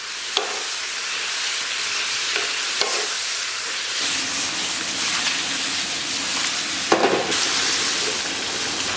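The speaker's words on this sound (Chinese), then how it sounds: "然后小火再给它煸炒一下" Tomatoes and pork belly stir-fried over low heat in a wok, a steady close sizzle with occasional scraping clinks of the spatula, no talking.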